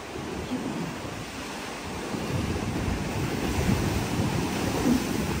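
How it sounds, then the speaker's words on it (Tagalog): Ocean waves crash and surge fast near the rocky shore at Tung Lung Chau, the rumbling wash building louder toward the end, with wind buffeting the microphone. "Ay, grabe ang paspas ng nung alon."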